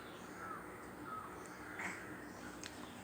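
Crows caw a few times at a distance, their faint calls barely rising above quiet outdoor background noise.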